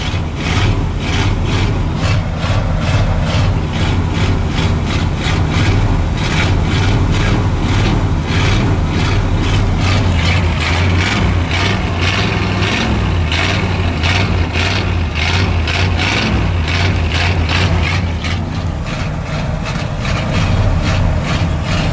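A wrecker truck's engine high idles at about 2,000 rpm after a sub-zero cold start, a loud, steady, close drone with a faint rhythmic pulsing throughout.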